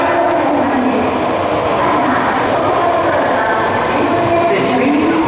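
An Osaka Metro Sakaisuji Line train pulls into Ebisucho station, a steady loud rumble of wheels and carriages filling the underground platform throughout, with faint clicking and no talk.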